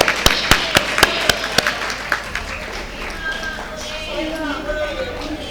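Audience at a book launch gives sharp bursts of clapping that fade into a general crowd murmur and cheering, with voices over the applause.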